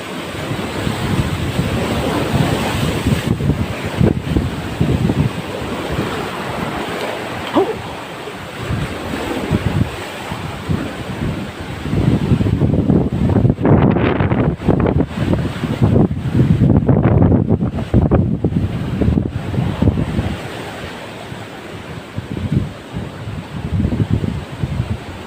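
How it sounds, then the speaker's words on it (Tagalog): Rough, choppy sea surf pounding steadily during a fishing trip, with strong wind buffeting the microphone in louder gusts midway; no talk. "Grabe. Grabe ang alon."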